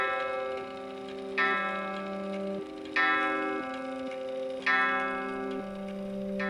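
A grandfather clock in a horror radio drama strikes midnight with steady, resonant chimes, each ringing tone arriving about every second and a half and decaying slowly against a quiet, dark background.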